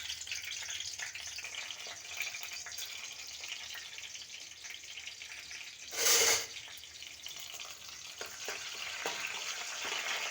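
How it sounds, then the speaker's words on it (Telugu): Onion, green chillies and tempering spices frying in hot oil in a pan for a sweet potato curry give a constant close sizzle and crackle, with one brief louder burst of spattering partway through and no talk. "ఇప్పుడు ఉల్లిపాయ పచ్చిమిరపకాయ తాలింపు దినుసులు వేసుకుందాం."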